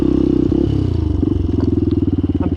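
An ADV motorcycle rumbles loudly and steadily while riding off-road, the engine note dipping and picking up again with a throbbing low pulse and faint clatter over rough ground.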